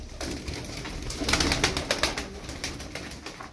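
Pigeons coo softly nearby, a low throaty warble rising and falling over a few seconds with some faint fluttering.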